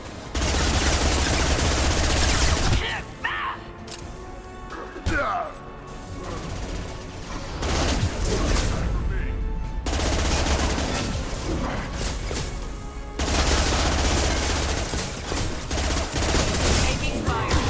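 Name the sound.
gunfire in the video game Mass Effect 2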